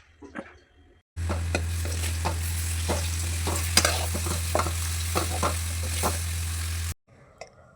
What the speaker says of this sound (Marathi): आपल्या अशा प्रकारे मस्तपैकी कोथिंबीरच्या वड्या परतून झाल्या आहे.